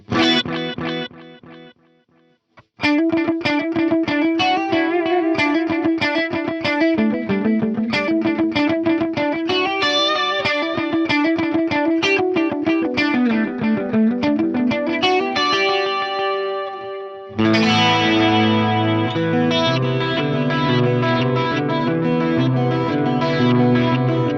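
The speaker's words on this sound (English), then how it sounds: "Let's also hear the ping pong delay." Electric guitar through a Korg AX1500G multi-effects pedal with ping pong delay set near 600 milliseconds, distorted notes and chords repeating in bouncing echoes, steady and loud for over twenty seconds with a brief gap near the start and no voice.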